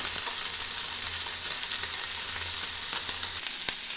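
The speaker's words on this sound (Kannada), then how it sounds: "ನೋಡಿ, ಚೆನ್ನಾಗಿ ರೋಸ್ಟ್ ಆಗ್ತಾ ಇದೆ ಫ್ರೈ." Bangda mackerel fish fry roasts in oil in a pan, giving a steady, close hiss with small crackles and an occasional sharper pop, unbroken and free of voices.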